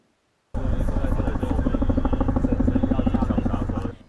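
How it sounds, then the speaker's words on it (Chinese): Army helicopter passing close overhead while dropping water on a forest fire in a mountain forest during a dry, windy spell, a loud rhythmic rotor chop starting abruptly and holding steady for several seconds before cutting off. "陆军特项部直升机飞划过来"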